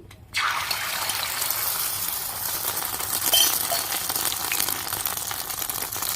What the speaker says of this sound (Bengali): ডিমটা ঢেলে দিচ্ছি